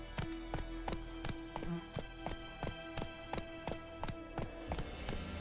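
A horse gallops in The Witcher 3, its hooves beating a steady, fast, evenly spaced clip-clop over a faint background tone, with no talking.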